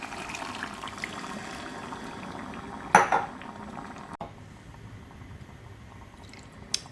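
Water is poured into a pot of thick mutton korma cooking in a pressure cooker, a steady quiet splashing with a brief metallic clatter of the pot partway through, then softer bubbling.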